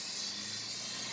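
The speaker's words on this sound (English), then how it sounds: "Pardon the noise from the helicopter back there" A helicopter passes behind a street on the Branson Strip, its steady rushing rotor noise filling the air in an even, unbroken wash.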